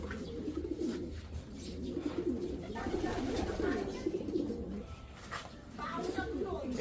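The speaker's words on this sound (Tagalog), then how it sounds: "O, ayan, magandang mga ibon." Racing pigeons coo repeatedly in a loft, soft throaty calls overlapping from several birds nearby, with someone talking intermittently over them.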